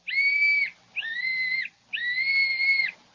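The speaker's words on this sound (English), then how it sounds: "Blow the whistle quick, Jimmy." A small whistle is blown three times in a radio drama, clear shrill toots with the last one held longest, close and alone.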